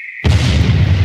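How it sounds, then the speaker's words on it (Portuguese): A single firework blasts off abruptly after a brief high tone, a loud, close boom whose rumbling roar lingers for about a second. "eu vou soltar fogos essa hora"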